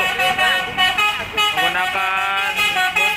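A passing Galaksi Utama coach nicknamed Tiga Restu, on the Kuningan–Cirebon–Tanjung Priok route at Ciperna Timur, sounds its horn in a loud, tonal, wavering melody that repeats over the steady roar of passing road traffic.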